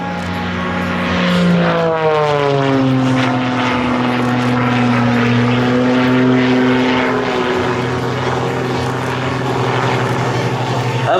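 Extra 330 SC aerobatic propeller plane with a 330-horsepower engine performing at an air show, a loud continuous buzzing drone whose pitch sweeps up and down as it manoeuvres, with a voice talking over it.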